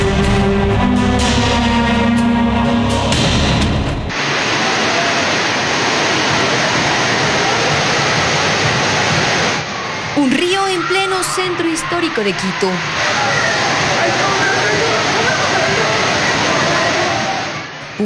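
Heavy rainwater floods the streets of Quito's historic centre near Plaza del Teatro, rushing as a loud, steady roar after a brief stretch of other audio, while a news narrator speaks over part of it.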